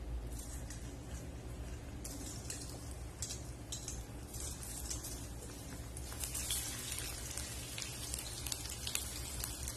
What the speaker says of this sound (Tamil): இந்த மாதிரி எண்ணெய் கொள்ற அளவுக்கு போட்டு நம்ம பொரிச்சு எடுத்துக்க போறோம் நல்லா கிறிஸ்பியா